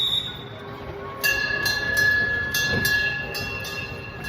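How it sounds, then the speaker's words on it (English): A small kids' train rolls past outdoors, a steady rumbling with rhythmic clacking and a sustained whistle-like tone rising over the continuous rail noise. "There's a kids train coming by."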